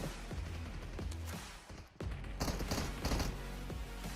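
Shotgun fire in a shooter video game, heavy booming blasts in irregular bursts, loud and close over a busy background of game noise with no talk.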